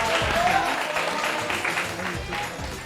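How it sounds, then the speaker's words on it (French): A studio audience at a French television match show applauds, a sustained patter of clapping under some talking. "On applaudit Fatim, s'il vous plaît."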